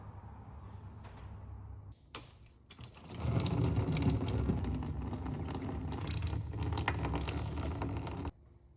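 Old transmission fluid or coolant drains from a race quad that has sat unused for ten years, beginning with a few metallic clicks and knocks, then a steady, close pouring rush that runs for several seconds before stopping abruptly.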